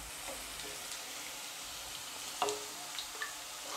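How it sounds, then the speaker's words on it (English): Chopped onion sautés in a pan with garlic for homemade pizza topping, giving a soft, steady sizzle with a few faint clicks and taps of stirring, quiet and without speech. "I'm going to saute it for about 2 minutes now"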